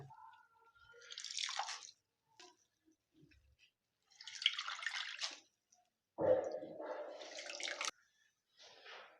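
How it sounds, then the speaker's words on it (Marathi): Water dripping and trickling in bursts as it is squeezed out of washed grated potato, close and fairly quiet, with short pauses between each squeeze and no talking. "आता आपण याला सगळं याच्यातलं पाणी काढून घेऊया"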